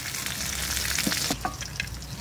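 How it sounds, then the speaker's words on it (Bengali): Dried tuna pieces fry in hot oil with a steady, dense sizzle and occasional stirring scrapes, close and continuous, with no voices. "লাল লাল করে ভেজে নিচ্ছি"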